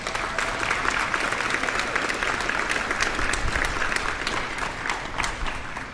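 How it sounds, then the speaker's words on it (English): A room full of audience members at a lunar landing mission event claps steadily, a dense, continuous patter of hands that holds at an even level for several seconds without pause. "So a round of applause for yourselves."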